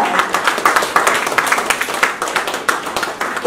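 A small audience at a literary festival claps together, a close series of sharp, uneven hand claps forming light applause with no speech.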